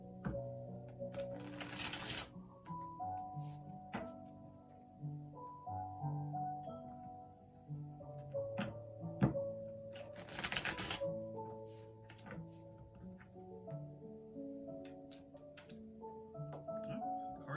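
Two short bursts of tarot cards being riffled and shuffled, a few seconds apart, over soft background music with a voice present.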